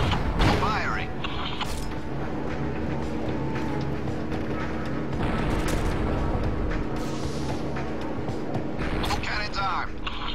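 Cannon fire in the PSP game Syphon Filter: Logan's Shadow, heavy booming blasts mixed into dense, continuous battle noise and machinery rumble with voices talking over it.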